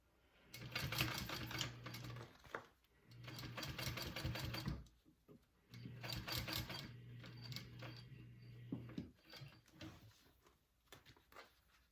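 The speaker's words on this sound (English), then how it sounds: "we're gonna sew those on with an 1/8 inch seam allowance stitch" A sewing machine stitches leather for a bowler bag with an eighth-inch seam allowance, running in three fast rattling bursts separated by short pauses, then slower intermittent stitches.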